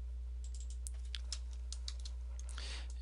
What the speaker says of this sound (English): so this time I'll just type it in.